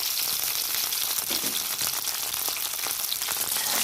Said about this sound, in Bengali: সবজিগুলো ভেজে নেবো, সেই জন্য আগে পটলটা দিয়ে দেবো।